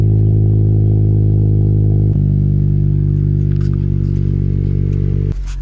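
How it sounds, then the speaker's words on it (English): Cold start of a 2020 Honda Civic Si engine, a loud steady idle with strong low rumble and a brief blip near the middle, continuing alone without talk before cutting off. "I want you to hear this cold start, man. This sounds so good."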